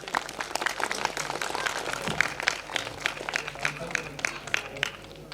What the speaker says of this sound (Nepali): त्यो दिनमा उहाँको लागि एकचोटि जोरदार ताली दिनु होला।